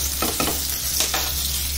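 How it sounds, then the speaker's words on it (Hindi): Food frying in hot oil gives a steady broadband sizzle, with a few brief stirring scrapes near the start and around one second in. "तल रही हूँ तेल में"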